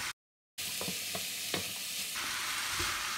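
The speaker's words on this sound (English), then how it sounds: "Then I mix it into my rice." Steamed carrots and string beans are stirred into fried rice in a pan, giving a continuous close sizzle with soft scraping and spatula taps after a brief silent gap at the start.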